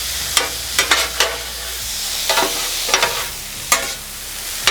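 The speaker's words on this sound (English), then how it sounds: "We'll let this saute up a little bit before we add the green onions in." Southwest egg roll filling sautés on a flat-top griddle with a steady close sizzle, punctuated by a series of scraping spatula stirs and turns, and no talking.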